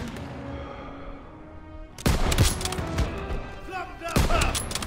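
Gunfire in the World War II shooter Call of Duty WWII, a quiet lull that breaks into a loud, dense burst of shots and booms, continuing with rapid reports to the end.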